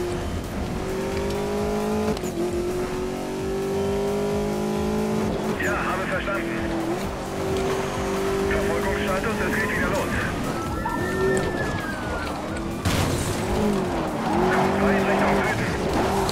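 Car in Need for Speed Most Wanted spinning out on rough off-road ground, with a droning engine, rising revs and a brief tire squeal, under steady excited talk.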